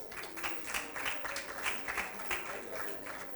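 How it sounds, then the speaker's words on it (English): An audience at a student contest applauds, many hands clapping in a lively, uneven rhythm with individual claps popping out of the crowd, moderately close and steady throughout. "A round of applause for him."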